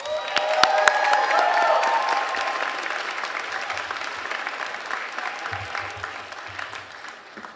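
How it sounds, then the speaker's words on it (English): Audience applause at a Jeffersonville High School senior honors ceremony for seniors with 4.0 grade point averages, a loud sustained crowd clapping that begins strong and slowly tapers over several seconds. "Please give them another round of applause."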